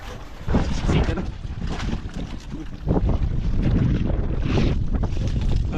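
Gusty wind buffets a small fishing boat out on the water, loud rushing bursts rising and falling against the microphone, with faint voices underneath.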